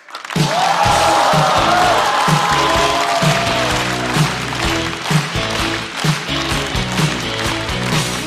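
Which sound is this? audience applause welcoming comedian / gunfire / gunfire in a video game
audience applause welcoming comedian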